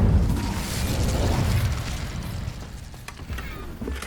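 Incendio, a fire spell cast in the Hogwarts Legacy video game, bursts out as a loud, rumbling whoosh of flame that starts at full strength and slowly fades over a few seconds, with faint clicking mechanical effects near the end.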